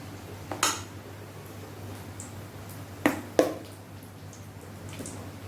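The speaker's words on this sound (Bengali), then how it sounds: "চামচে করে আমি দিচ্ছি" A spoon clinking against a bowl while jhalmuri is served, three sharp separate metallic taps spread across an otherwise quiet stretch with a low steady hum.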